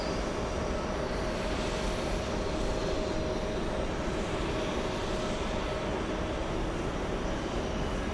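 Delta flight 1891, a Boeing 737-900, takes off with a continuous, heavy jet engine roar. The sound is broad and rumbling and holds steady throughout, with no voices.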